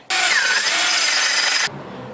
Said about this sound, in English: What I'm trying to do is drill it all the way through to about here, so I have this to grab onto